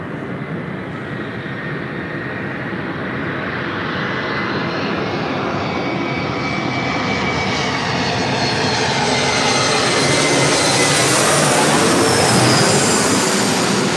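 An American Eagle Embraer E175LR jet operated by SkyWest arrives on final approach at LAX, a loud continuous engine roar that swells steadily as the aircraft nears and passes overhead, with no talk.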